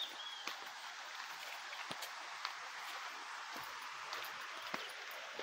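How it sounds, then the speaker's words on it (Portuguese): Steady broadband rush of water from a waterfall on a hillside trail in a Sergipe mountain range, constant and moderately distant, with faint rustles and scattered small knocks over it. "Para ouvir o som da queda d'água."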